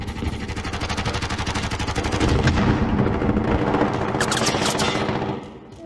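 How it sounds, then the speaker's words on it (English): Rapid automatic gunfire in an online shooter game, a dense continuous burst of loud shots that swells midway and cuts off near the end, with no talk over it. "Oh, we're getting shot at already."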